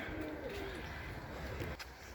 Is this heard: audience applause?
no